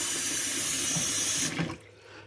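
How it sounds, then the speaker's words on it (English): Tap water pours steadily into a pot for preparing Thai sticky rice, a bright rushing hiss, then the flow stops and only a faint trickle remains. "Regular tap water."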